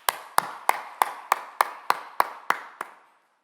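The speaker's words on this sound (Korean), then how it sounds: "감사의 박수 한번" Ten crisp, evenly spaced claps ring out at a steady rhythm in a church service, each with a short room echo, before trailing off into silence.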